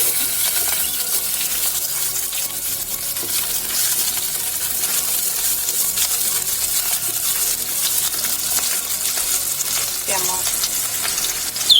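Onions fry in hot oil in a pan, a loud, steady hiss and crackle close up, with faint clinks of a utensil now and then and no speech.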